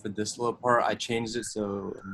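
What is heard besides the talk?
No everyday noises stand out.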